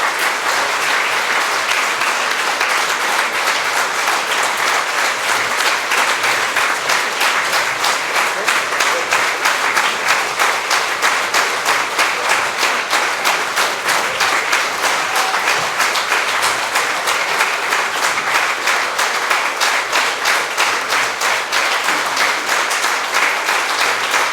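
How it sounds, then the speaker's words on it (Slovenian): A concert audience applauds for a vocal group at its 20th anniversary celebration, giving long, even, sustained clapping that fills the hall without a pause. "Dajmo vsem še en velik aplavz."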